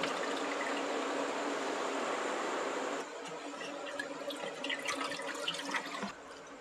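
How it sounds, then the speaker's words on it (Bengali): Running water pours over chhana (fresh cottage cheese) in a strainer, a steady broadband splash for about three seconds, then softer trickling and dripping as the flow eases, close and alone without talk. "দেখো এর ওপরে একটু নর্মাল জল দিয়ে ছানাটাকে ধুয়ে নিচ্ছি।"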